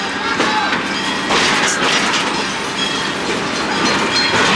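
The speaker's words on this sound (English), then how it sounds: "taking the tranquil ride on a train" A theme park train ride at Six Flags Fiesta Texas rolls along with a steady rumble and clickety-clack of wheels on track, loud and continuous, with faint background voices.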